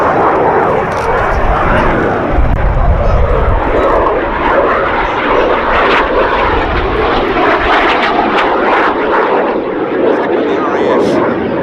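A loud BAC Jet Provost jet aircraft roars past close by at an air festival, a broad rushing engine noise that swells and holds throughout the pass.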